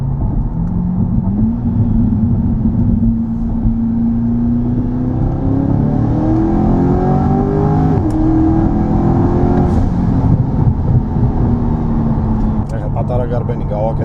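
A tuned car engine pulls hard on a test run, its droning pitch rising in steady sweeps with a deep rumble beneath, loud and close throughout.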